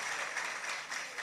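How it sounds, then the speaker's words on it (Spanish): Applause for a monsignor at a national new evangelization congress: a dense, continuous wash of clapping from an audience, brief and fairly loud. "Un aplauso para Monseñor."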